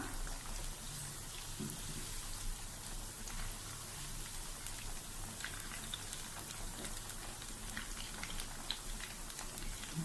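Chicken shallow-frying in oil, a soft, even sizzle with faint crackles throughout, fairly quiet and steady, no voices present.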